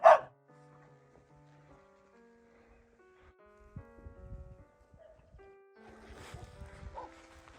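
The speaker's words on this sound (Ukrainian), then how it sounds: "Собака." A single sharp dog bark at the start, then quiet with faint tones and scattered thumps, and a few more muffled barks later.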